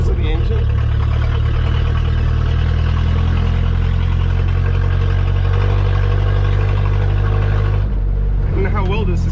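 A Citroën DS 19 saloon fitted with a straight-pipe exhaust rumbles steadily as it drives off-road. The deep, loud engine drone holds throughout, and a brief higher squeal shows near the end.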